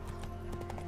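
Horse hooves in The Witcher 3, a steady clip-clop of a galloping mount close by, repeated quick beats over a constant game ambience.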